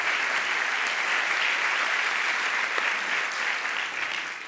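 An audience applauds steadily to welcome a physics and astronomy professor onto the stage at a gravitational-wave talk. The clapping is dense and even throughout, with no voices over it.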